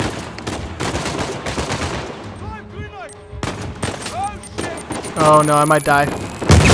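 Rapid bursts of gunfire from blind firing in the video game Uncharted 4, loud cracks in clusters over a player's spoken reactions, with electronic game tones near the end.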